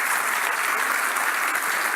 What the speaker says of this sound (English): round of applause for Steve, ladies and gentlemen